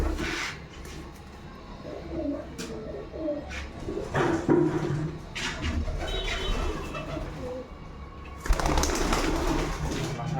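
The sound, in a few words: pigeon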